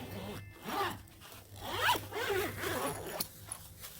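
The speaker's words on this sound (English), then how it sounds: "You just go ahead and unzip it." A zipper on a Deerfamy camping cot's stuff sack is pulled open in a few quick, close, quiet rasping strokes, with no talk.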